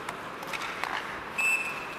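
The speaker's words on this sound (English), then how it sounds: "There's Trocheck, and that's whistled down." A short, sharp referee whistle blast near the end over a low crowd murmur in a large arena at a Montreal Canadiens versus New York Rangers hockey game.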